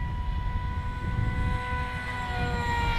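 A radio-controlled MiG model airplane on its maiden flight gives a steady engine drone with a sustained high whine, continuous for the full three seconds, heard outdoors on a slightly windy day.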